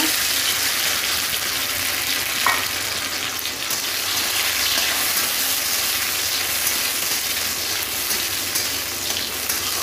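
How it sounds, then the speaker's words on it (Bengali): Washed cashews and raisins fry lightly in hot oil in a kadai, a steady, close, even sizzle with a few faint pops and clicks scattered through it. "কাজু আর কিশমিশ আমি ধুয়ে রেখেছি, তো ওগুলো একটু হালকা ভেজে নেব।"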